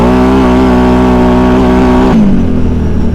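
A built Can-Am Outlander ATV engine roars through a loud, sustained full-throttle pull, its dense harmonic drone holding steady before dropping sharply as the throttle closes near the end, with no talking.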